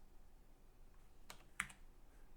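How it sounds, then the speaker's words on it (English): Computer keyboard typing during a Handmade Hero programming session: a few faint, quick key clicks with one sharper tap, set against quiet room hiss. "but I typed on the wrong keyboard, so I just inserted it into my code instead"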